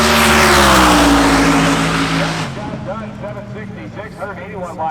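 A loud, roaring drag racing car engine revs hard at a hot rod drag event, then gives way to fainter, rising and falling engine whines from more distant drag cars.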